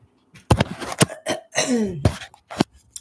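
Several harsh coughs in a row from someone with COVID, close and loud, with short gaps and a throaty rasping sound between them.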